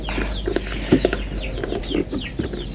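Newly acquired hens and chicks cluck and peep softly in repeated short calls at close range, with a few light rustles and wing movements around them.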